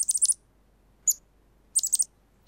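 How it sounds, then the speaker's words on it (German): A small bird, apparently a young one left alone under an apple tree in a cartoon, gives quick high chirps in short bursts with pauses between, near and clear against a quiet background. "Wo kommt denn das Vögelchen her?"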